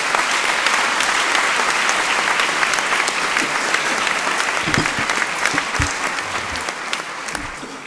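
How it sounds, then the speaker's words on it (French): A festival audience at an eloquence contest gives a thunderous round of applause for the grand jury president, dense sustained clapping throughout that tapers slightly toward the end. "un tonnerre d'applaudissements pour le président du grand jury"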